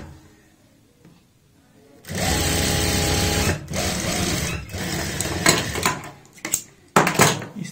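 Sewing machine stitching a neckline seam on a kurti, a steady loud motor whir running for several seconds after a quiet start, with brief stops and restarts near the end; no talking.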